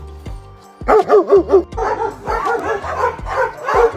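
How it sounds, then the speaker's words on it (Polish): A large dog barks in a rapid run of loud, close, rhythmic woofs, followed by more continuous barking and yelps, with no speech over it. "Przepiękny pies."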